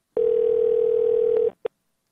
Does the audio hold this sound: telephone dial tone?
yes